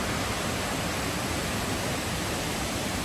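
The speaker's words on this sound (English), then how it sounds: "This is a big waterfall." A large waterfall in Tennessee gives a steady, dense broadband roar that fills the whole stretch without a break, constant in level with no voices or other sounds over it.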